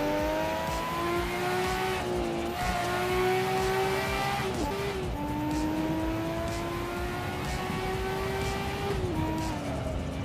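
Race car engine from Assetto Corsa, driving a Gran Turismo car, holds a steady loud drone with rising pitch through gear shifts and brief tire squeals, continuous throughout.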